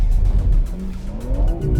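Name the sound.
BMW M3 CS accelerating hard in rear-wheel drive, tires squealing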